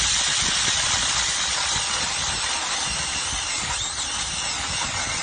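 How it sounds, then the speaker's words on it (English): Electric drill driving an HT Enterprises 8-inch E-Drill attachment through a hole, a continuous loud whirring grind with steady hissy texture, holding evenly for several seconds with no talk. "So I'm going to try drilling this 8-inch hole once here."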